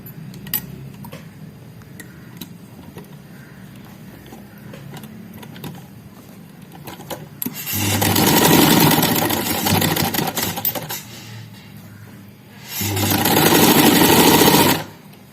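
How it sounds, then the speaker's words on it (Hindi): A sewing machine stitches a sherwani collar band in two loud bursts of fast running stitches, with quieter ticking handling and pauses between them. "अब इसी जगह पे हम सिलाई लगाएंगे।"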